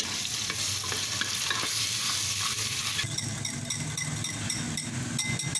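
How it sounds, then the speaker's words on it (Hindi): Ginger garlic paste stirred into a hot frying pan while cooking paye, giving a steady close-up sizzle and scraping stir that carries on throughout with no talking. "अदरक लहसुन का पेस्ट डाल रही हूँ।"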